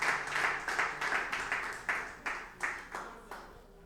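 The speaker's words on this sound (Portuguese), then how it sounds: "Assente e bate palmas bem forte para Jesus" A church congregation at an evening worship service claps in a steady, firm rhythm, roughly three claps every second, the sound filling the hall and gradually thinning out, with no voices over it.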